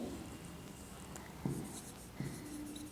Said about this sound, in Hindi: यहाँ पे हम लिख लेंगे